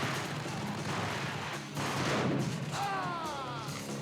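Gunfire in the Max Payne video game, a low rumbling burst of shots with a heavier thump near the middle, set against a steady game background and followed by a faint whistling tone.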